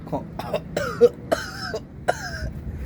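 A man with a cold coughing outdoors in a village on a chilly day, several short harsh coughs and throat-clearing bursts spaced irregularly, close and loud.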